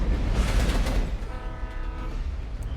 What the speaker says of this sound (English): Oh, it's a train going.